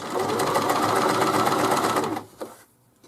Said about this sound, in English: this is a straight stitch on the Janome